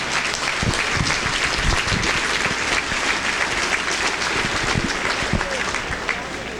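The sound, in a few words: crowd applause at state fair steer show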